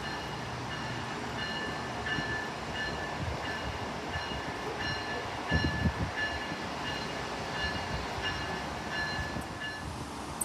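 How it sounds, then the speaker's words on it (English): An Amtrak Acela Express train rumbles slowly into Route 128 station at close range with steady mechanical hum and a few clanks, while faint tonal beeps repeat in the background. "a Providence-bound Acela Express arrives at 128"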